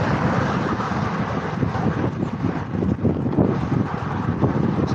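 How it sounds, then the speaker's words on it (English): Steady, loud wind roars across the microphone while riding a heavy vintage bicycle, a continuous broadband rush with gusty swells and no talking. "Wind's at me."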